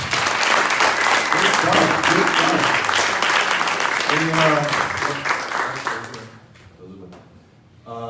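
A room of attendees at a 1 Million Cups Daytona Beach gathering claps loudly after a talk, a sustained round of applause with a person speaking over it before it fades out.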